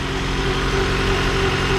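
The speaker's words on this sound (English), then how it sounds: "So obviously this thing's a little bit loud, guys. It doesn't have an exhaust or a cat" A Honda CR-V engine, a 1997–2001 model, runs with no exhaust system or catalytic converter, giving a loud, steady, smooth idle that drones evenly throughout at close range with no speech over it.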